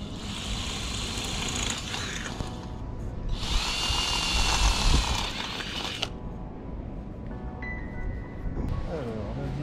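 Power drill boring holes into a metal satellite dish tripod, with high whining bursts of the bit separated by quieter gaps, close and loud over background noise, and a voice speaking briefly.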